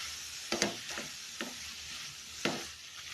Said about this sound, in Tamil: பீட்ரூட் வந்து நல்லா வதங்கி வரட்டும்.